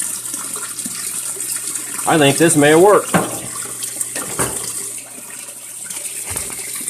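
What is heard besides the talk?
Frigidaire Gallery washer running with water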